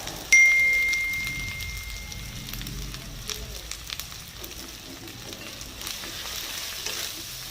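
Turmeric and spices hit hot oil in a pan for mutton with a sudden loud sizzle that fades into a steady crackling fry, broken by small pops and clinks of a utensil.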